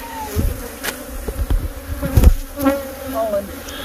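Honey bees buzz around an opened hive inside an RV, a close, steady insect drone with rising and falling swells as individual bees pass near, plus scattered handling knocks.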